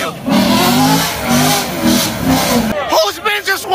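A turbocharged car at a night car meet revs loudly and close, its engine surging and swelling in repeated pulls before cutting off, with excited voices talking over it.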